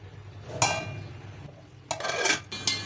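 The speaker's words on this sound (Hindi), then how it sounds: "इसके ऊपर मैं इसका ढक्कन लगा देती हूँ ताकि ये जल्दी गल जाए।" A few sharp metallic clanks and clinks of a lid settling onto a pot of cooking masoor dal, with a soft low hum beneath.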